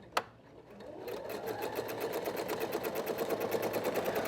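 A sewing machine stitches a seam on a slant pocket, starting with a click and then running in a steady, rapid, close mechanical rhythm that builds slightly.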